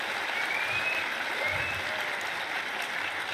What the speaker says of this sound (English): Can we hear another round of applause for our incredible panelists on stage here?